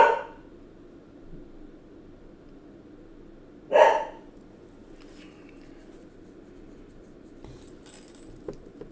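A dog gives a couple of short, sharp barks, a loud one at the very start and another a few seconds later, against a quiet room.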